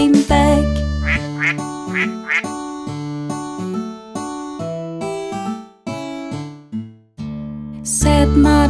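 Cartoon duck quacks ring out in a children's nursery rhyme song about five little ducks, repeated in bouncy bursts over a bright musical backing of piano-like notes.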